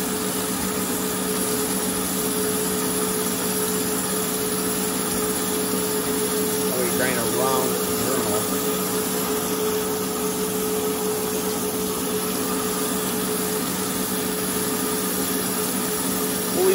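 A Storm Vulcan 15AW crankshaft grinding machine grinds a crankshaft with a loud, continuous rushing whine that holds steady throughout, with faint tonal traces in the middle.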